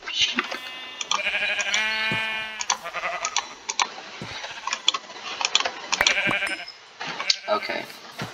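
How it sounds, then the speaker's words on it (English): Sheep bleating in the video game Minecraft (Crazy Craft modpack), several wavering bleats in the first few seconds, followed by clicks and other game sounds. A player talks throughout. "sheep, sheep, sheep"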